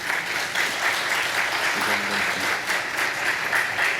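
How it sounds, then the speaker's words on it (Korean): Congregation applause welcoming a missionary to the front at a Wednesday church service, sustained full-room clapping at a steady level, with a faint murmur of voices beneath it. "큰 박수로 환영해 주시기 바랍니다"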